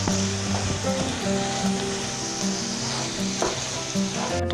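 Mutton and beet frying in a pan, a steady close sizzle with occasional stirring scrapes, continuous and fairly even throughout with no talking.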